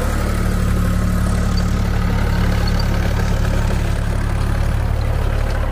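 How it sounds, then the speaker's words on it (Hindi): A Sonalika tractor engine labours hard while pulling a rotavator through farm soil, a loud, steady, unbroken diesel drone up close with no voices. "ट्रैक्टर के पूरा दम निकल रहा इस टाइम पूरा जोर दिखा रहा"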